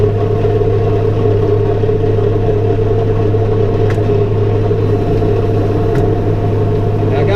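A Teagle Tomahawk straw blower runs behind a New Holland T5.120 tractor, making a loud, steady engine drone and blower roar with a constant hum, heard close with no talk.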